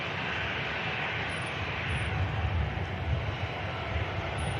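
Icelandair Boeing 757-200 with Rolls-Royce RB211 engines at Manchester Airport, a steady, fairly loud jet roar with a low rumble that swells slightly partway through.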